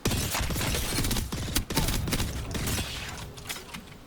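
A gun in the Apex Legends video game fires continuously at a charged-up fire rate. The loud, rapid bursts run densely with hardly a gap, and they thin out briefly near the end.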